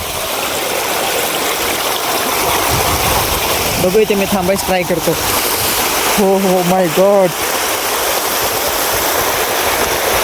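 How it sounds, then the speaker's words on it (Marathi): Heavy floodwater rushes through a canal after heavy rain, roaring steadily throughout, with someone talking excitedly over it in two short bursts. "तिथं पण चाललंय पाणी तिथं तर काय आवाज"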